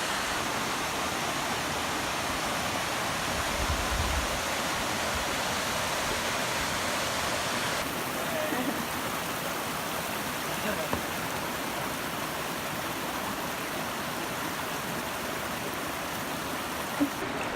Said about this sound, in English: Got a nice view of the waterfall up there